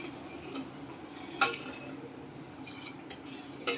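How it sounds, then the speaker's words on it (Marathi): A ladle scrapes and clinks against a metal pot while rice kheer is stirred, faint steady scraping broken by a few sharp metallic taps. "पळीने छान हलवायचं आहे. आणि चांगलं ढवळत राहायचं आहे."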